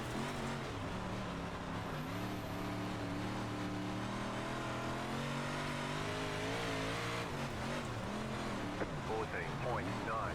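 Several dirt big block modified race car engines in iRacing drone and rev together on the Cedar Lake Speedway oval, a loud, steady pack roar with shifting pitch and no break, as a voice talks over it.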